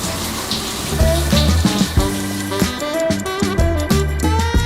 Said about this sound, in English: we're finally gonna show you guys the shower